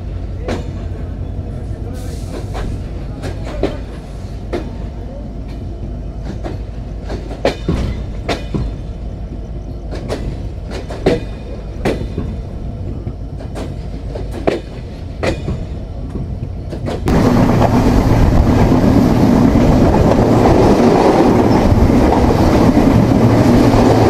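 The Simanta Express, an intercity train in Bangladesh, runs between stations: steady clickety-clack of wheels over rail joints with sharp rhythmic knocks, then a sudden shift to a louder, denser rumble and roar for the last stretch.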